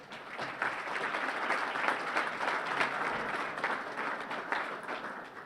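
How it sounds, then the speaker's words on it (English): An awards ceremony audience applauds, a steady wash of many hands clapping at moderate distance for several seconds with no clear voices over it. "give everybody a round of applause for just being here"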